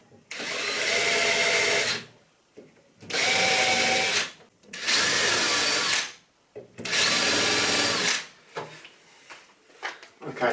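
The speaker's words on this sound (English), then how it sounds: "I might just put a little countersink on it just to allow it to sink quite nicely" Power drill countersinking a screw hole in timber for a wall-mounted TV bracket: four loud, close whirring bursts of about two seconds each, separated by short pauses, followed by quieter clicks and handling noises.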